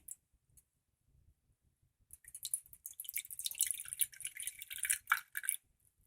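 Lemon juice squeezed by hand into a pan where wine, lime juice and cream sauce ingredients cook, giving a close run of wet drips, splatters and sizzling bursts after a quiet start, with no talking.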